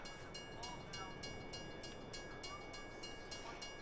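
A train passes in Farming Simulator 22, heard faintly as a steady rumble with a regular clickety-clack of wheels over rail joints.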